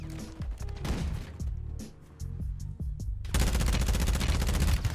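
Rapid automatic gunfire rattles through a first-person shooter match, bursts stopping and starting before one long sustained stream of fire, close and loud, with no talk over it.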